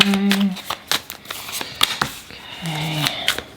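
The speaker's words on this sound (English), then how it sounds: "So for the tarot card, we give it a good shuffle." Tarot cards being shuffled by hand in a series of brisk riffling, slapping bursts, close and fairly loud, with brief tonal sounds in between.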